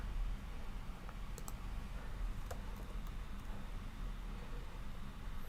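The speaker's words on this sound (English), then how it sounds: "So I'm typing in Ibis," Typing on a computer keyboard while searching model rocket software, heard as scattered faint key clicks over a steady hiss, with no talking.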